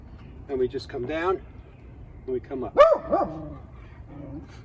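A dog barks a few times indoors during a lower-body home exercise class, the short barks mixed with an instructor's speech.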